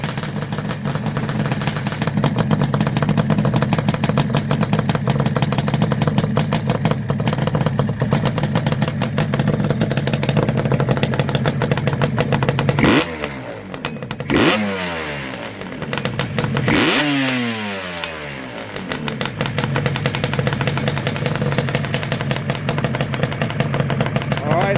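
A Yamaha RD400 Daytona Special motorcycle engine runs loud and steady for most of the stretch, with a few sharp revving sweeps in the middle. Voices speak over it.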